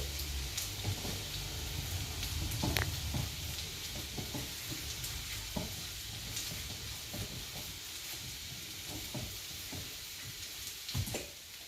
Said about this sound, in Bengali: এখানে রসুনটা খানিকটা ভাজা হয়ে যাচ্ছে, আর একটু হবে এটা।